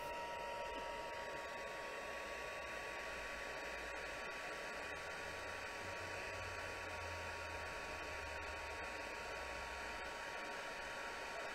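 Heat embossing tool blowing on a slower setting, a steady loud hair-dryer-like rush of air with a constant whine running unbroken from start to finish, close to the microphone.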